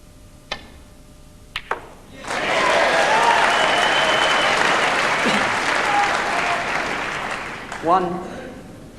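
Snooker audience at the 1997 Masters applauding. A few sharp ball clicks come first, then broad, steady clapping swells and holds for several seconds before tapering off.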